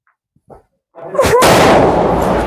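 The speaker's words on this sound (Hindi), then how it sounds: "सो गाइस फाइनली पटाखे भी फोड़ दिए हैं," Firecrackers set off outdoors during Diwali celebrations in Uttarakhand: a couple of small pops, then a loud, sharp blast followed by a sustained crackling roar, close by.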